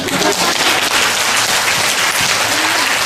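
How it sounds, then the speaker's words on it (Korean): Dense, loud applause from an audience of kindergarten teachers at a lecture on American early childhood teacher evaluation fills the whole stretch steadily without a break, with no voices rising above it. "박수 한번 치실까요?"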